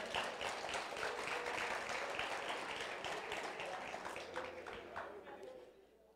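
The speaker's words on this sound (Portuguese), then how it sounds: "salve de palmas, pastor Edmar." A church congregation applauds a pastor with steady, dense clapping that carries on for several seconds, fairly distant and reverberant, then gradually fades.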